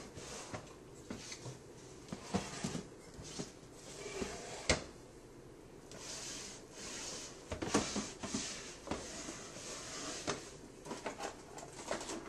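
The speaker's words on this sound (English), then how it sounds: "Sorry for my squeaky drawers." A squeaky drawer is pulled open and pushed shut. It gives faint creaks and soft knocks with scattered clicks of items being handled, all quiet and close, with no talking.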